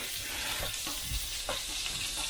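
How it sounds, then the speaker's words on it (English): Burger buns toasting in butter on a hot surface for smash burgers, giving a steady, close, bright sizzle with small crackles and bursts of frying and no talking. "So we're going to start toasting off the buns and a bit of butter."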